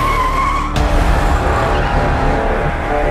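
A car pulls away with a loud, sharp tire skid and squeal, close and intense, the engine roaring on as the screech carries through.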